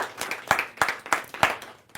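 Sparse, rhythmic hand claps ring out at a kavi sammelan poetry gathering as a chairman guest is welcomed, a handful of sharp claps spaced roughly a third of a second apart, close and moderately loud.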